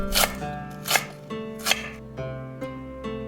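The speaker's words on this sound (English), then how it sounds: "First, we'll julienne the cabbage, cutting long strips." A knife slices cabbage into long julienne strips on a cutting board, about six crisp, evenly spaced cuts close to the microphone with brief pauses between strokes.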